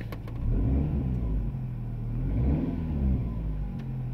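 A 2005 Dodge Stratus engine idles at an auction, giving a low, steady rumble with mild swells in level, fairly quiet and without talk.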